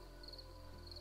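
Faint crickets on a nighttime island map in the video game Ghosts of Tabor chirp in two soft bursts over a low steady hum.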